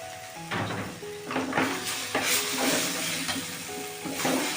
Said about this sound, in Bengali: এবার আমি ভেজে রাখা চিংড়ি মাছটা দিয়ে দিলাম